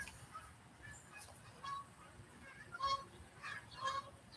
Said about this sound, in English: Thought we were about to get a flyover by a gaggle of geese.